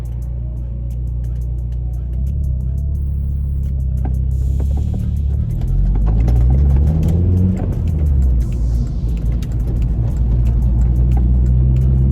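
A VW MK4 Golf 1.8T with a forged engine and GT2871 big turbo idles with a low, steady rumble, the engine note swelling briefly midway before settling back into a close, continuous drone.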